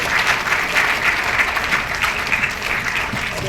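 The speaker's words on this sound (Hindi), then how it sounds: "आप तालियों की गूंज से इनकी हौसला अफजाई करें।" Audience applauding young Muslim students honoured at a ceremony, a loud, sustained wash of many hands clapping steadily throughout, with faint crowd murmur beneath.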